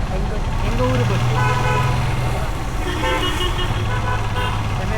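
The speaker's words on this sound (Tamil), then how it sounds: "எங்கள் ஊர் பஸ்" A town bus rumbling along with a steady engine drone and two long horn toots, one early and one late, amid traffic noise, loud and nearby.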